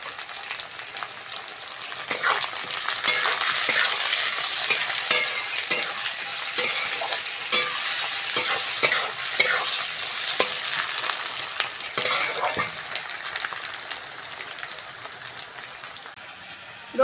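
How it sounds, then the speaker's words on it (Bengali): Garlic, onion and tomato sizzle in a pan while a spatula stirs and scrapes repeatedly, a loud, continuous frying hiss broken by frequent sharp scrapes. "রসুন পেঁয়াজ টমেটো ভালো করে ভেজে নিয়েছি"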